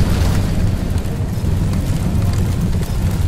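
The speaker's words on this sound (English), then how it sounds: "We're picking up an explosion ahead." Loud, dense rumbling blast from an explosion in the Anomaly Warzone Earth video game, a sustained roar of boom and debris that stays heavy throughout with no clear voices.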